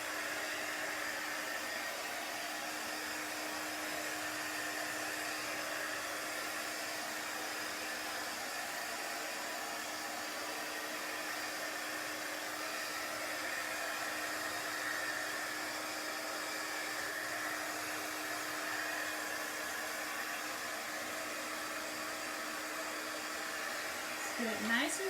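A hair dryer blows steadily and continuously up close, drying a chalk couture transfer project before wax goes on, a constant whooshing roar with no break.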